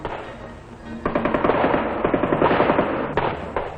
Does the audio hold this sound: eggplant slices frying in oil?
no